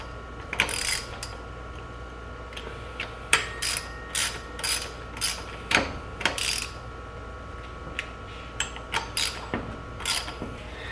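Ratchet wrench snugs clutch bolts down onto a flywheel for a twin-disk clutch install, several short bursts of rapid clicking ratcheting with pauses between, close and clear over a faint steady hum.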